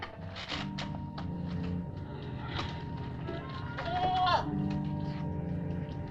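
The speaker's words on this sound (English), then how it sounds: "It's a goat." A goat bleats with wavering, quavering calls over a background of old film score music, one call rising loud near the end, all fairly close and clear.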